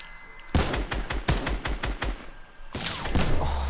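Rapid video-game gunfire rattles close and loud, a burst of about nine quick shots, a brief pause, then another dense burst of shots.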